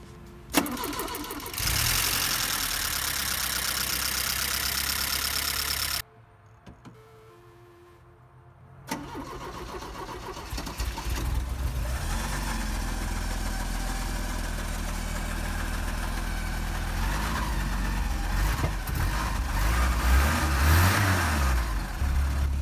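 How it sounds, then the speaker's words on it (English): A rebuilt 1983 Porsche 944 engine cranks and catches, settles into a steady idle, then revs up and down several times, loud and close, with a brief lull after the first start. "we're getting ready to see if this car will fire up"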